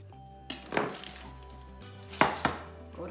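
A sharp knife cuts through no-knead bread dough in a kitchen, giving a few soft, close slicing and knocking sounds on a hard surface with light clinks, alone without talk.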